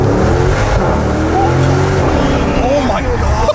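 A Maserati accelerates hard, its engine roaring loud and close with rising revs and a steady, strained growl throughout, while excited voices talk over it.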